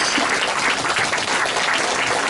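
Dense audience applause, many hands clapping at once in a steady, full roar with no pauses.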